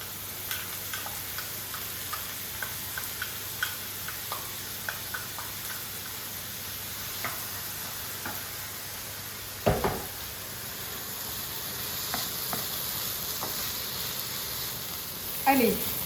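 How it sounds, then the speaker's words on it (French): Onions sautéing in a pan for a spinach and goat cheese tart filling, a faint steady sizzle with light ticks and occasional clinks of a utensil, under soft intermittent talking. "je vais commencer par faire rissoler mes oignons"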